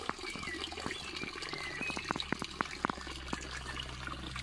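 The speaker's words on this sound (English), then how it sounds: "And such a little corner with such a trickle of water." A small trickle of water runs in a garden corner, a faint, steady burble with soft drips and splashes, close by and heard alone.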